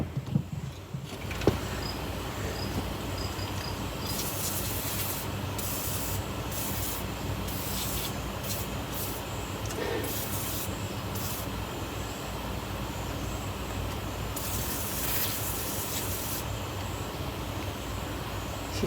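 Pressure-washer spray blasting a greasy wheel hub on a 1963 Pontiac Grand Prix recovered from the woods, a steady broadband hiss running the whole time with bursts of sharper high spray.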